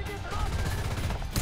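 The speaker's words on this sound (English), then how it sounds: "I want every gun we have to fire on that man." A Maus tank's guns, main and secondary, firing together in a tank game: a dense rattle of rapid shots runs throughout under a rumbling engine bed, with a sharper blast near the end and talk over it.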